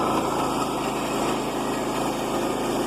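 A Woodland Mills sawmill runs steadily while cutting through wood, a continuous close, loud engine drone with a high whine and no pauses.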